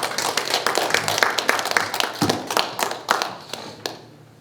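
Scattered audience clapping at a Yonsei University prayer breakfast welcoming a preacher, individual claps audible and uneven, thinning out toward the end.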